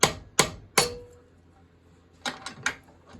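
A hammer taps a horseshoe nail over while it is clamped in a vise, making sharp metallic clangs: three evenly spaced strikes, a pause with ringing, then three quicker lighter taps, close and clear without talk.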